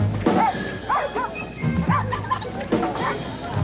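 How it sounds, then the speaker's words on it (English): Several dogs bark and yip in a 1980s Bud Light beer commercial aired during a CFL football broadcast, a run of loud, close barks in quick, irregular bursts. "Dogs."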